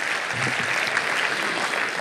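An audience at a mushaira claps together in one dense, steady wash of applause that runs unbroken throughout, close and fairly loud.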